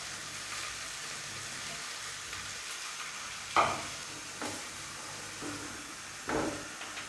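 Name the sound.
carrot pieces frying in ghee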